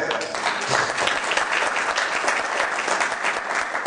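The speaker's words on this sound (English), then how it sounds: "Give God a hand clap for that." An audience claps steadily and enthusiastically for several seconds, a dense, sustained patter of many hands.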